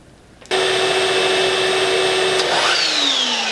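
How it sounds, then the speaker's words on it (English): A shop vac and a miter saw run together on a split-phase off-grid solar inverter, a loud steady motor whine starting abruptly and holding, with a tone shift near the end as the overloaded phase drops out. "So the only things will be the shop vac and the miter saw"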